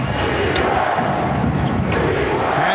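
A New Jersey Nets home crowd at a 2002 NBA Finals basketball game roars and chants for defense, a dense, loud, continuous wall of voices without pause.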